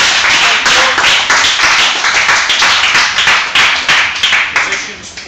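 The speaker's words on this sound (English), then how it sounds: "Another round of applause for Dez." Brazilian jiu-jitsu academy members applaud a newly promoted blue belt at a belt ceremony, loud, close, rhythmic hand claps from a small group in a gym, rapid and sharp throughout.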